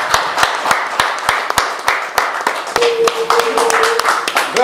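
An audience at a press conference claps for a singer: a sparse, fairly regular run of nearby hand claps with a voice briefly audible underneath.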